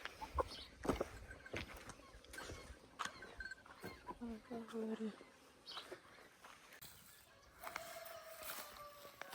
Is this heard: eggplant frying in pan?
no